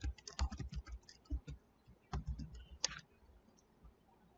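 C# code being typed on a computer keyboard: quiet, close key clicks in quick bursts and short pauses, ending in a few isolated taps.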